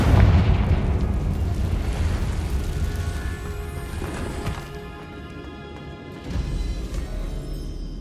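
A Confringo fire spell bursts into a loud, rumbling explosion in Hogwarts Legacy, roaring at first, then thinning into a fading crackle before a second heavy thud near the end.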